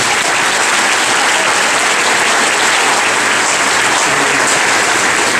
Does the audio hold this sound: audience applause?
yes